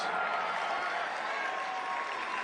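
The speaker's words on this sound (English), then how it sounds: "that didn't get the biggest round of applause for Matt Gaetz" An audience applauds steadily throughout, a dense, even wash of clapping at a political event, with no break.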